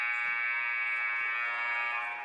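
The game clock buzzer sounds at a girls' high school basketball game, one long, loud, steady electronic tone held for over two seconds with faint gym noise underneath.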